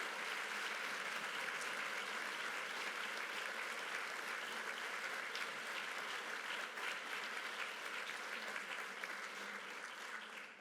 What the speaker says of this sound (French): je vous demanderai qu'on les applaudisse chaleureusement